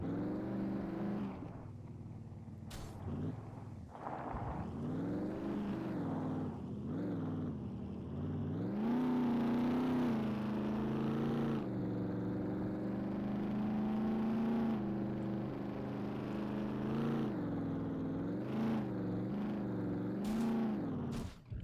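A car engine drives steadily in the survival game SCUM, its low harmonic drone shifting in pitch as it revs up and eases off, loud and close throughout with no talk over it.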